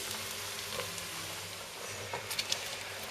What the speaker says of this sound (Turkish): Biberleri de çok fazla kavurmayacağız